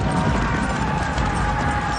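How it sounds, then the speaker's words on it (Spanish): Cavalry horses gallop in a dense, continuous rumble of hooves. The sound is loud and unbroken, with no clear individual beats, and it sits under a thick wash of background sound. "Los humanos van a batalla a caballo por primera vez."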